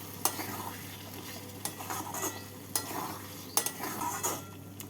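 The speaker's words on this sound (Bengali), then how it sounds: "আলুগুলোকে দিয়ে নাড়াচাড়া করে নিচ্ছি" Fried potatoes are stirred in a pan for mutton keema ghugni, with a sizzling base under several sharp scrapes and knocks of a utensil against the pan at an uneven pace, close by and without speech.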